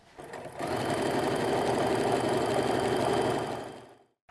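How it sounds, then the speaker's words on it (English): A sewing machine runs steadily, stitching sashing strips onto a T-shirt quilt block. The motor whirs up quickly, holds a fast, even stitching rhythm for about three seconds up close, then winds down and stops. "let the sewing machine take it"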